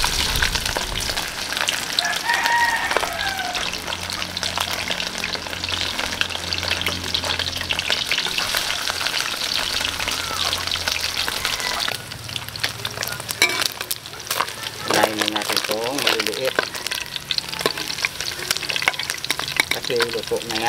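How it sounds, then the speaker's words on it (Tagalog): Steady, loud sizzling and crackling of smoked fish (tinapa) frying in hot oil, continuous throughout, with occasional stirring clatter and brief faint voices. "Pwede na nating prito."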